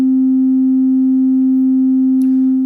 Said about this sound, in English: when you pull it up, it's just a default oscillator tone